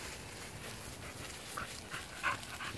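Several American Bully dogs pant and snuffle outdoors after being let out a back gate, with brief whimpers and small yips, fairly faint and close by.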